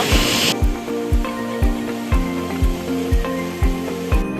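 Barabakhra Waterfall near Ranichuan in Bargarh, Odisha, rushes in a steady, dense roar, overlaid by loud, rhythmic music with a regular thumping beat.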